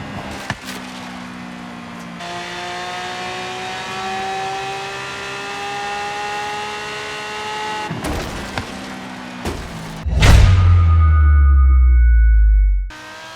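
Car engine in Forza Horizon 3 holds a steady drone with rising harmonics, then cuts briefly before a loud burst of deep low rumble near the end, like hard acceleration or an impact, followed by abrupt silence.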